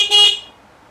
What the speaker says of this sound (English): So I normally just try and press the horn first.